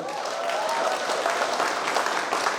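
Guests at a Kazakh celebration feast clap together in a dense, sustained round of applause, steady and fairly loud throughout the short burst, with no clear talk over it.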